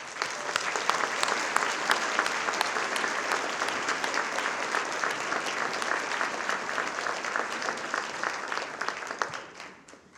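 Sustained, dense applause from a luncheon audience fills a banquet room for about ten seconds at an even level, then tapers off at the very end.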